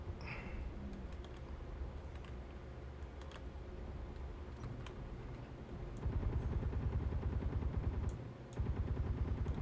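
Guns fire at a turret in the Space Engineers video game: a steady rapid crackle of shots that grows louder and denser partway through, with no talking.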